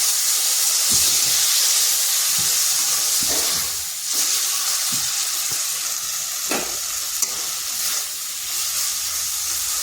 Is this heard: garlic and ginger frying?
yes